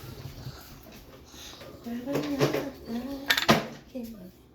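Someone roots through a kitchen cutlery drawer for a knife while making fondant flowers, with metal utensils rattling and clinking up close and a person talking over the clatter.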